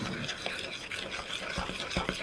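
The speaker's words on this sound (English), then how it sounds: "You want to stir it really good." A spoon stirs powdered sugar into a vanilla mixture in a bowl, making soft, continuous scraping and swishing with a loose repeating rhythm, close and fairly quiet.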